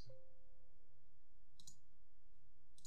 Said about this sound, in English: You're gonna click next.